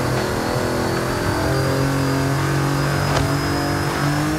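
A Mitsubishi Pajero Evolution engine in the Forza racing game revs hard and steadily, loud and continuous, with its engine tone holding near one pitch throughout.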